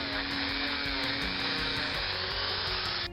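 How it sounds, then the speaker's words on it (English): A small drill bores into the die-cast metal bonnet of a Majorette Ferrari GTO model car, a steady high-pitched whine close to the microphone that shifts slightly in pitch under load. "And here, we're just drilling, making sure not to go out of the bonnet."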